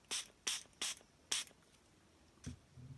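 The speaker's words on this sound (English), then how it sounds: "just going to give this a spray" A spray bottle gives four quick, crisp hissing sprays, then a fifth after a pause, followed by a soft knock.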